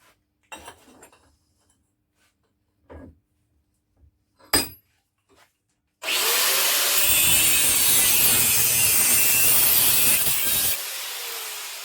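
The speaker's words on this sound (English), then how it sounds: "with this slitting disc, I'm just going to rip a corner off it" A few scattered knocks and clatters, then a loud, harsh, continuous grinding whine of an angle grinder's slitting disc cutting through metal during stainless steel motorcycle exhaust fabrication for about five seconds, near and steady.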